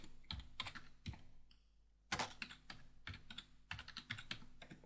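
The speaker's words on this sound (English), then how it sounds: "I'm then going to type sum" Typing on a computer keyboard while entering a formula into a spreadsheet, with quick bursts of close, crisp key clicks, a brief pause, then more rapid keystrokes at a quiet level.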